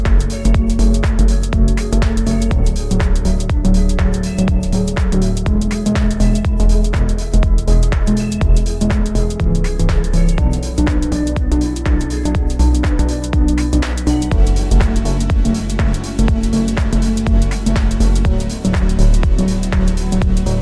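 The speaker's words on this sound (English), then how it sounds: "I've made these 2 kind of deep house tracks" A deep house track plays back from a DAW: steady four-on-the-floor kick, thick bass and layered synth chords, dense and loud throughout with no voices.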